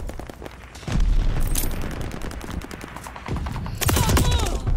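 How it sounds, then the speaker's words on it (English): A stun grenade goes off in a Call of Duty Vanguard team deathmatch on the Berlin map, two loud bursts of blast and crackling amid ongoing gunfire, with a sharp ringing tone after the second. "Throwing stun grenade."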